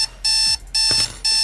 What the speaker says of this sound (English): When that timer dings,